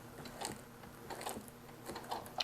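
A sewing machine back stitches fabric at a 1/4 inch seam allowance, giving a few short bursts of quiet mechanical clicking and whirring, close with no voices.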